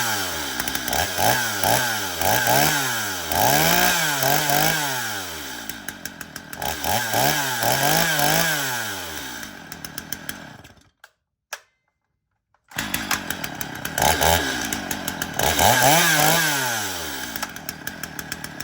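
A chainsaw is started with its chain brake engaged, its engine revving in repeated loud, rising and falling bursts, then cutting out for about a second and a half before it fires up and revs again.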